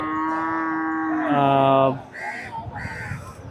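Bullocks low at a cattle market in Poigai, a sustained harmonic bellow swelling louder before cutting off, followed by shorter calls and crowd noise, with people talking around it.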